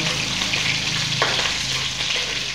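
Onion sautéing in hot oil for chicken adobo gives a steady, close sizzle and crackle with a brief soft stir partway through, no voices.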